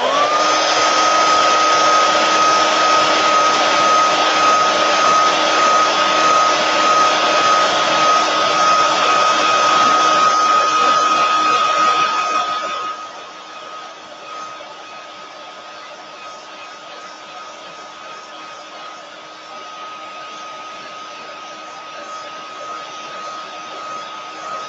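A hair dryer runs loud and steady at close range while drying a tree, its whine holding constant, then it drops to a quieter, lower setting for the second half.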